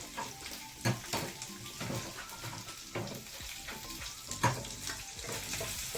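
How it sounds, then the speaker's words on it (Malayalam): Okra sautéing for sambar sizzles steadily in a pan, with intermittent stirring scrapes and clinks of a utensil against the pan, close and moderately quiet. "വെണ്ടയ്ക്ക ഒന്ന് വഴറ്റിയെടുക്കുമ്പോൾ നല്ല ഉറപ്പുണ്ടാവും"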